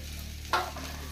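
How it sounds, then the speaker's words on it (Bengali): Rice frying in a pan with turmeric for Bengali khichuri, a soft, steady sizzle with a single sharp scrape or clink midway, no voices. "চালটা একটু ভেজে নেব"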